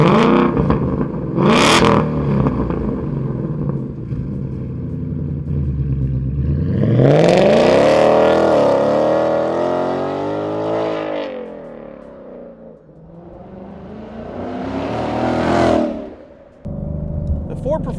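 A 2018-2023 Ford Mustang GT with a Ford Performance by Borla Sport 2.5-inch cat-back exhaust, loud and close, accelerating in rising sweeps through the gears with a deep, aggressive tone, easing off between pulls.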